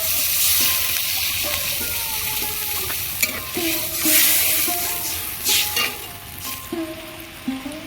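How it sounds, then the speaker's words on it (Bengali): Water goes into a hot pan of frying mourola fish with chopped tomato for a sour fish curry. A loud hissing sizzle is heard close up and gradually settles, with occasional clinks of stirring. "এবার আমি জল দেবো"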